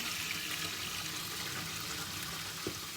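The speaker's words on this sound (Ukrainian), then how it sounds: "Виливаємо цю воду, вона вже не найбільше чиста" Water being poured out of a pot or container in a home kitchen, a steady close splashing hiss that runs continuously without speech.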